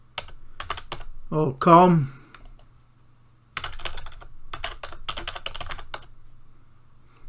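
Bursts of quick keystrokes on a computer keyboard entering a web address, close and clear, with a short spoken phrase between the runs of typing.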